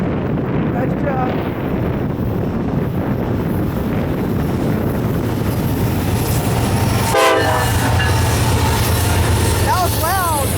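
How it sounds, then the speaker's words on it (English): Norfolk Southern freight train horn blasting in Springfield, Illinois, the loud sustained tone starting around midway over constant rumbling rail noise and heavy wind buffeting, with faint voices nearby. "make them honk the horn"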